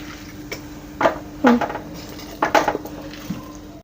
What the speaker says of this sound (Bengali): পুরন নাড়াচাড়া দিই